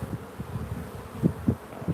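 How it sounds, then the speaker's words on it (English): Honeybees drone in a low, steady hum around a honey frame lifted from a beehive during an inspection, with soft rustling and a few louder buzzes close by. "there might be some nurse bees on here"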